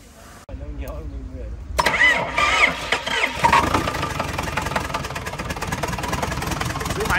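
A Yuchai 4108 diesel engine cranks and fires up, settling into a loud, rough, clattering run, with people talking over it.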